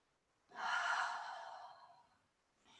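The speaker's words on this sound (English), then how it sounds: "One more time, deep breath in and out." One deep, slow breath during a moderate yoga session, soft and close, swelling quickly and then trailing off into a long, airy exhale, with a faint start of another breath at the end.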